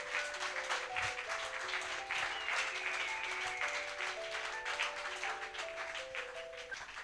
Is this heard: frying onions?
no